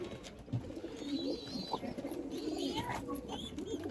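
Pigeons cooing at a large pigeon farm in Mymensingh, with several soft, overlapping coos and chirps over a steady background hum of the loft.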